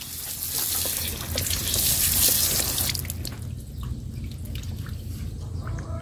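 Water rushes from a homemade replacement tap as it is opened, a loud steady hiss and splash that then eases into a softer, quieter flow with faint drips.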